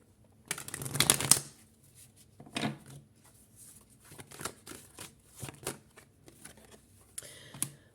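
Tarot cards are shuffled and drawn close up in a quiet room: a burst of riffling, then a series of short papery slides and taps spaced a second or so apart.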